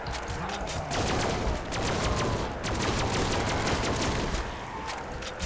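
Rapid gunfire from a gun in Call of Duty: World at War Zombies, a steady stream of crisp, close shots in quick succession over a busy game background.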